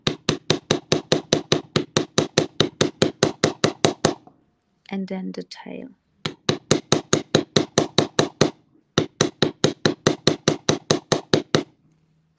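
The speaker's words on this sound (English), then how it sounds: "I'm only putting there the parts I want to hammer" A hammer striking craft parts on an anvil in rapid, evenly spaced metallic blows, loud and close, in long runs broken by a brief spoken pause before the hammering resumes.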